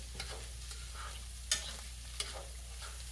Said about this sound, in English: Okay, I'm gonna stir that around a little bit.